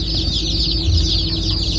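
Crowds of young Delaware chicken chicks cheeping nonstop in an overlapping high-pitched chorus, loud and near, with a low background rumble.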